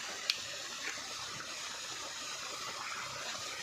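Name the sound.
water being drained out of a pierced coconut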